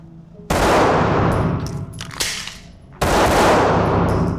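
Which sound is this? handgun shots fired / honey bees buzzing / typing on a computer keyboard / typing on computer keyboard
handgun shots fired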